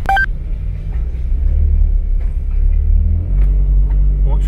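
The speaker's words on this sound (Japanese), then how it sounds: "ちょっとマフラーの音がいいね。" A camper van's engine and exhaust muffler rumble deep and loud at close range, the note carrying an American-car quality, with a brief rise in revs near the end.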